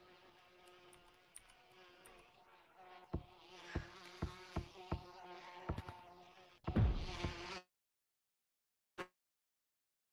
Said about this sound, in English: Why are the bees still there?